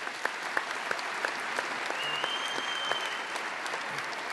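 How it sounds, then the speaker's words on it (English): An audience applauds steadily at an honorary freeman of the city ceremony for a boxer in Nottingham, a dense, even wash of many hands clapping at moderate distance with no voices over it. "a round of applause for Dale McPhilbin, please."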